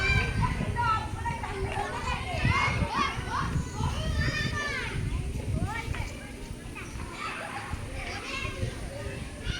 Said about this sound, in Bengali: বাচ্চাদের স্কুল পাশেই প্রাইমারি স্কুল আর কি সেই স্কুলেই সব বাচ্চারা এসেছে তাই এত আওয়াজ